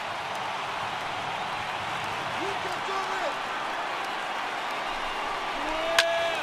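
Large baseball stadium crowd of over 37,000 in MLB The Show 18, a steady broad roar with a few whistles rising to its feet, heard under commentary.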